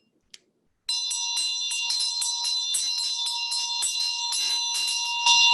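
A Tibetan ritual bell used in Medicine Buddha practice rings rapidly and continuously after a single short strike, giving a loud, bright, sustained shimmering tone with steady rhythmic pulses and no talk.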